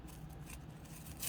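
Scissors snip through thin material, probably wire or cord, while making amethyst and crystal tree of life jewelry with a key ring; a soft, brief cutting sound over quiet low hum, no talking.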